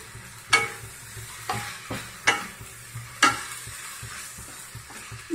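Mutton frying in a pan with chili powder and turmeric, a soft steady sizzle broken by several sharp scraping stirs of a spoon at irregular intervals, close and moderately quiet with no talking.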